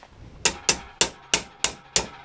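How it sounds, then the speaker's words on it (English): Six sharp, evenly spaced metallic hammer blows on a punch, driving rivets out of an electric chopper's rotor hub, close and loud with no talking. "So now I'm hoping I can just drift those out with a punch."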